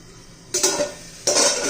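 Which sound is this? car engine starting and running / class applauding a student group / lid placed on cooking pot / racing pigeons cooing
lid placed on cooking pot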